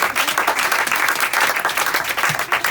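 Audience applause for a bassist at a live concert, a dense, steady wash of many hands clapping, loud and close throughout with no voices on top.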